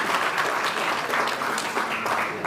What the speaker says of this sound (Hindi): इस समारोह में उपस्थित सभी के लिए एक बार जोरदार तालियां बजाकर अभिनंदन करें